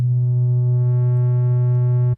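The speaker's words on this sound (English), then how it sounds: "There's actually specific overtones, additional sine waves at particular frequencies that have been added to cause it to change its shape." A synthesizer oscillator in Massive plays a sustained sine tone with added overtones that make it brighter partway through. It is a loud, steady, electronic hum for about two seconds, then cuts off abruptly.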